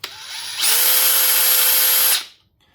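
A power drill with a locking bit holder spins a screw at high speed, a brief whir stepping up into a loud, steady high-pitched whine for about a second and a half before winding down to silence.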